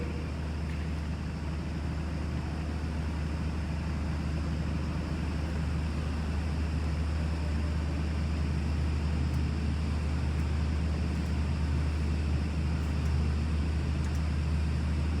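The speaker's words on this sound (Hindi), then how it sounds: "स्पिंडल अभी चल रहा है, फीड ट्रैवल भी चल रहा है।" A WMW heavy-duty drilling and tapping machine with an 80 mm capacity, spindle and feed running, makes a steady, loud, unbroken mechanical drone with a low hum throughout.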